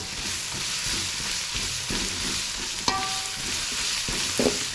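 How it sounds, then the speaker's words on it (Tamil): Ginger garlic paste sautéing with onions in hot oil for a snail gravy, giving a steady close sizzle with the scrape and clink of a spoon stirring throughout and one sharper metallic knock partway through. "இஞ்சி பூண்டு பேஸ்ட் சேர்த்துக்கிறேன் இந்த இஞ்சி பூண்டோட பச்சை வாசனை போகிற அளவுக்கு நம்ம வந்து எல்லாம் வதக்கி வச்சுக்கலாம்"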